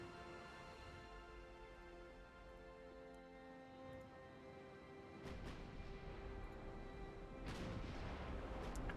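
Naval guns firing high-explosive shells in the warship game Ultimate Admiral Dreadnoughts, with two distant booming salvos, the second heavier, under sustained droning background music.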